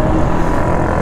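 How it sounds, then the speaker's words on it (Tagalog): The engine of a QJ SRV400S motorcycle rumbles loud and close, a dense steady idle filling the short moment with no other sounds. "Buksan nga natin yung motor."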